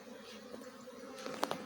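Honeybee swarm buzzing around a hive box during a swarm capture: a steady, close, low drone, with louder passes of single bees near the end.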